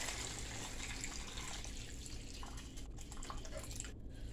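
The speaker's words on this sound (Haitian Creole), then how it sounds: "On va mettre de l'eau chaude." Hot water streams steadily into a cooking pot while Haitian turkey-neck bouillon is being prepared, a continuous close splashing and trickling wash with no talk.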